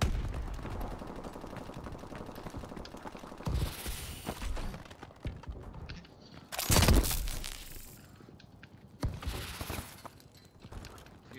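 Sniper rifle fire in Call of Duty: Advanced Warfare. A few sharp, loud shots with brief cracks and shattering debris stand out over constant battle noise and faint talk.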